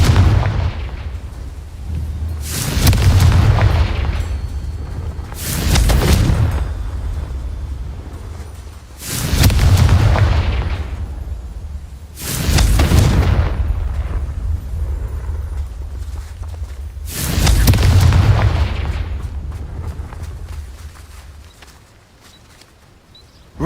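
Five heavy booming blasts from the Confringo fire spell in the video game Hogwarts Legacy, spaced roughly every three to four seconds, each with a rumbling tail over steady low game ambience.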